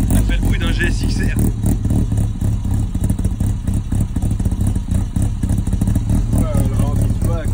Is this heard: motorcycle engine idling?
yes